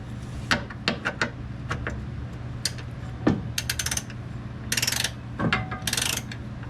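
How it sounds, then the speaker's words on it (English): A ratchet with a 15 millimeter socket tightening jack rail bolts on a 2006 Mustang, giving bursts of sharp clicking strokes with short pauses between them, close and clear over a low background hum. "So you need a 15 millimeter socket to get these in."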